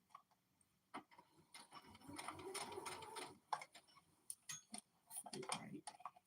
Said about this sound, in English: I'm gonna back stitch it, and I'm just gonna create that line all the way around this part.